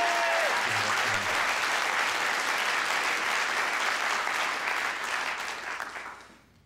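Audience applause at the 11th annual A Winters Tune concert in 2007, a dense, sustained burst of clapping from a large crowd that fills the room for about six seconds before fading out at the end.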